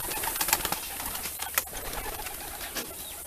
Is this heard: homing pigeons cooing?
yes